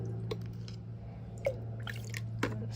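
Water trickles slowly from a spoon into garden plant soil, heard as faint scattered drips and soft splashes over a steady low hum, with no talking.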